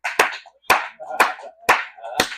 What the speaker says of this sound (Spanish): Denle un aplauso a Adán